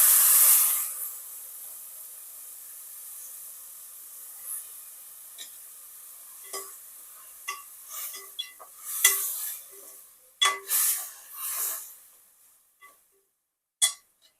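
Boiled milk is poured into semiya payasam with a brief hissing rush, followed by intermittent stirring scrapes and clinks of a spoon against the pot, close and fairly quiet.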